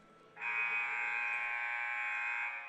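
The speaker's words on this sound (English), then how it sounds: "Buzzer sounds" A loud electronic buzzer at a boys' volleyball game sounds after a brief quiet moment, holding one steady, harsh tone for about two seconds.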